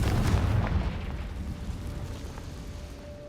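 A Confringo fire spell explodes in Hogwarts Legacy: one loud, broad blast right at the start that rolls off into a rumbling decay lasting a few seconds.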